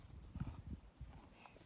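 A single horse at close range, with a few soft hoof thuds and shuffling on the ground, low and quiet, and no voices.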